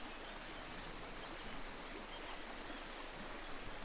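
A river stream flows in a steady, soft wash of broadband water noise that holds even throughout, fairly faint and with no voices.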